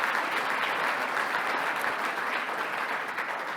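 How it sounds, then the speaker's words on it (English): An audience at a conference gives a steady round of applause, dense even clapping from many hands heard alone for a few seconds without a break. "Give Helena Nolan another round of applause."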